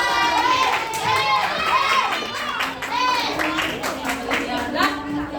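Schoolchildren in a classroom clap together amid excited shouting and chatter, a busy, loud burst of young voices and hands that carries on throughout without settling.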